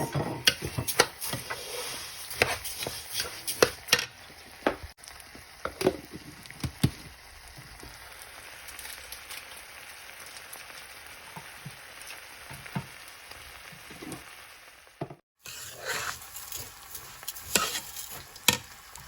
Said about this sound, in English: I'm going to add my rice to the oil and stir it, give it a stir, like 1 minute